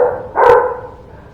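A single close, loud bark from a dog in a garage shop, short and sharp, then fading quickly.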